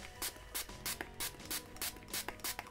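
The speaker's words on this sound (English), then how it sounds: "So I'm going to use a setting spray" A rapid series of about nine short, hissing spritzes from a pump bottle of e.l.f. makeup setting spray, close up and evenly paced, with no talking.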